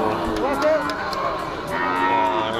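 A cow at a cattle market lows in a long, drawn-out moo amid steady crowd chatter and market bustle, with people talking nearby.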